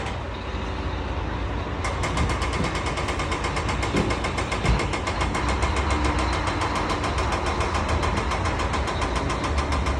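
A BMW E90 2.0 car engine idles through an active-valve Varex exhaust with a deep, rumbling note, sustained and close, with a steady throbbing pulse throughout.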